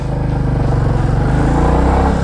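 A Royal Enfield 350 motorcycle converted to belt drive pulls away from a standstill, its loud, close single-cylinder engine thumping in a steady, even rhythm as it moves off.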